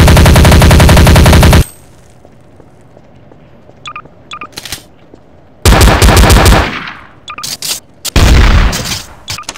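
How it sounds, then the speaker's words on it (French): Gunfire in a shooting video game: loud rapid automatic bursts, a long one at the start and two more later, with quieter clicks and game beeps in between and no talking. "il faut viser pour tirer"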